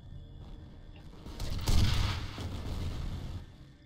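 Rockets and explosions in the first-person shooter game F.E.A.R., a low rumbling burst that swells to a loud booming peak midway, then trails off into a lingering roar of combat noise.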